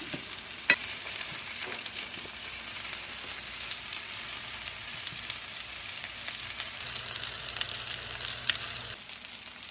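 Spanish mackerel pieces frying in hot oil give a steady, close hiss with fine crackles, running alone without talk for the whole stretch.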